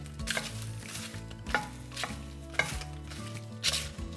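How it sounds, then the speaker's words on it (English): A cinnamon stick and whole spices toasting in a pan, with a quiet steady sizzle broken by about six light knocks and scrapes of a utensil against the pan, close and unvoiced. "Just toasting all this off to get it going a bit."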